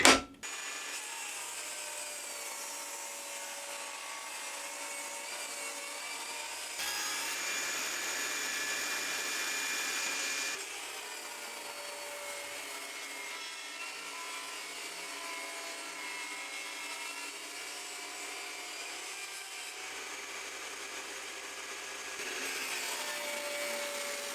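Table saw ripping apple crate slats into strips: a continuous loud whirring whine with a rough wood-cutting rasp that swells slightly in two stretches, steady for the whole length with no speech.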